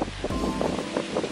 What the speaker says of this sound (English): I'm really sorry that it's windy.